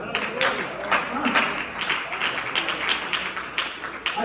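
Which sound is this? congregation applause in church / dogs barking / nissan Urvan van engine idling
congregation applause in church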